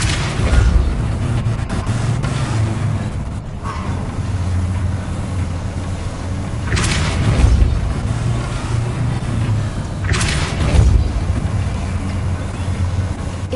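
Depulso, a force-pushing spell in the video game Hogwarts Legacy, cast repeatedly: loud whooshing bursts rise above a steady low rumble, with two strong blasts a few seconds apart.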